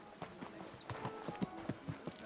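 Horse hooves clip-clopping in Kingdom Come: Deliverance II, a steady run of soft, evenly spaced hoofbeats at moderate distance over a faint background, with no talk.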